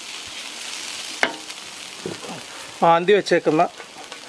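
Beef sizzles in a hot pan with spices that were roasted beforehand, making a steady frying hiss under a sudden clatter. Brief speech breaks in near the end.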